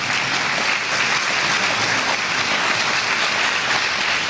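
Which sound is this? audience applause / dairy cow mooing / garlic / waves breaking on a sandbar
audience applause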